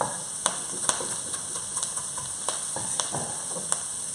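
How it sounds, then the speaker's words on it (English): Food sizzling and crackling steadily in a hot pan, with occasional sharp clicks of a utensil stirring, close and fairly loud. "That'll stop the frying process and then it'll start cooking."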